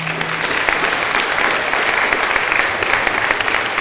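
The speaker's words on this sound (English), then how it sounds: "Can everybody just give our panelists a round of applause?" Steady round of audience applause for panelists at a high school STEM night, dense even clapping from a crowd lasting the whole few seconds without pause.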